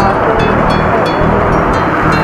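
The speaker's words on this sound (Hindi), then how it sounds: "इसमें लहरें इतनी तेज नहीं है समुंदर जैसी" Broad, constant rush of waves lapping at a large dam lake, heavy with wind buffeting the microphone, loud and close with no break.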